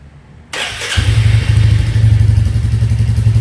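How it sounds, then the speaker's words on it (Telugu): A Royal Enfield Meteor 350 motorcycle engine cranks and catches after a quiet moment, then settles into a loud, steady, close idle. "ఇంజిన్ ఆన్ చేస్తున్నాను"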